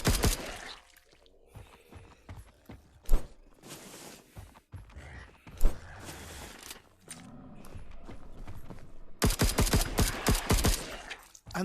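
Gunfire from weapons in the VR space game Wandering in Space: sharp, scattered shots in the first half, then a dense, loud rapid burst near the end, over a busy electronic game backdrop.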